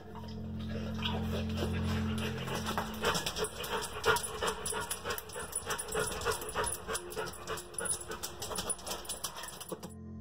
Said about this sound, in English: it almost sounds as if a dog or some other animal is panting rapidly inside the sewer